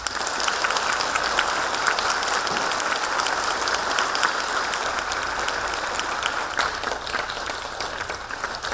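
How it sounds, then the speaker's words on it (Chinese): A large standing audience at a Buddhist lecture gives sustained, even applause for nearly nine seconds, a dense wash of clapping at steady loudness. "我们以热烈的掌声恭请堪布为我们做出开示"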